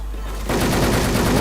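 Rapid automatic gunfire in the online shooter game Wolfteam starts abruptly after a brief quiet moment, then rattles on as a loud, dense stream of close shots.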